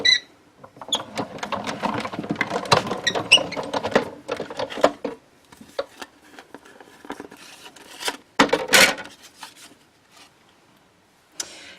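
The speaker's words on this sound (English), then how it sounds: "run it through your die cut machine." A die cut machine cuts a flower image, producing a close run of clicking, ratcheting mechanical sounds that trails off into quieter bursts and near silence.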